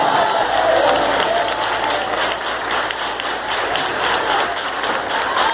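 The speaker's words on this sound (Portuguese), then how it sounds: "Se você quer isso, aplauda Jesus Cristo" A church congregation claps and cheers during worship, a dense, continuous round of applause with crowd voices mixed in, steady and fairly loud throughout.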